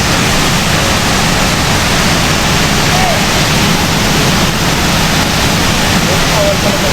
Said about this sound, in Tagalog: dito na tayo sa may Balagbag Falls